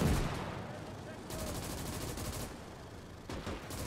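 Infantry gunfire in the WWII game Gates of Hell: Ostfront, aimed at a Kettenkrad, dense distant rattling bursts of rifle and machine-gun fire layered over a rumbling battlefield background.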